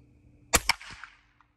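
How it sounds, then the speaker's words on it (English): A single sharp shotgun blast fired outdoors, a loud close crack with a quick second burst and a short decaying echo trailing off. "Alright guys, so Nadir's gonna take the shot."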